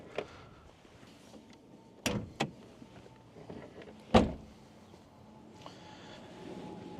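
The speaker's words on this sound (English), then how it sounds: "So let's pop the bonnet and we'll talk engine." Bonnet of a Renault 5 GT Turbo being popped open, a few sharp metallic clunks and latch clicks standing out against a quiet background, with one loud thud near the middle.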